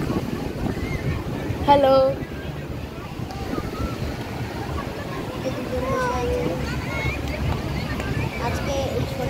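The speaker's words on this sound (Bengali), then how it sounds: "এই এখন সমুদ্রের হাওয়া খেতে এসেছি" Sea wind and waves roar steadily on Puri beach in the evening, a constant broadband rush with gusts buffeting the microphone. People talk over it throughout.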